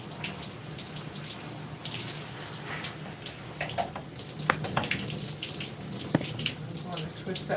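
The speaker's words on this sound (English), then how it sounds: "So we have rinsed that section." Tap water runs steadily while conditioner is rinsed from a twisted section of hair, a close, continuous rushing stream with occasional small splashes and drips.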